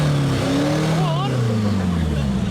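A Ford Fiesta with a missing piece of side trim revs at an evening car meet, a loud, close engine tone that rises and then sinks, under ongoing crowd chatter and nearby voices.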